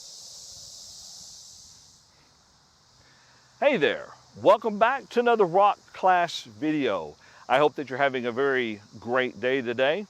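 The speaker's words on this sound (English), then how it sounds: "you can hear the cicadas singing there in the trees behind me" Cicadas sing in the trees on an evening, a steady high-pitched buzz that is heard alone at first and then continues faintly behind someone speaking close to the microphone.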